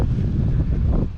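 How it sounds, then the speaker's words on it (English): Wind gusting outdoors, a steady broadband rush buffeting the microphone for the full moment, with no talk. "It's very windy."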